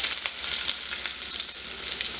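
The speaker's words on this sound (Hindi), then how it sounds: "इसमें अब हम प्याज डाल देते हैं।" Finely chopped onions dropped into hot oil with golden-brown ginger and garlic for hotel-style dal tadka, a steady close crackling sizzle with fine spitting pops throughout.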